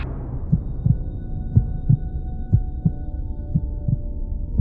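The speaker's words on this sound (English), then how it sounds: "The heart grew louder, so loud I thought it could burst." Heavy heartbeat sound effect, a steady double-thump pulse repeating about once a second over a low droning hum, loud and close with no voices.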